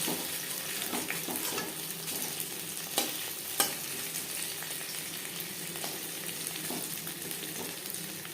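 Oil sizzles steadily as masala-coated fish fries in a pan, a constant crackling hiss broken by a couple of sharp pops.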